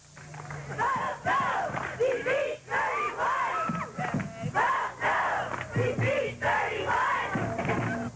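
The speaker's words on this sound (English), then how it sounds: "Over 100 students from both Green Hills and Forest Park High Schools held an election pep rally of sorts." More than a hundred high school students from Green Hills and Forest Park High Schools cheer at an outdoor election pep rally on Green Hills Commons in 1985, with loud, continuous yelling and chanting from a dense crowd.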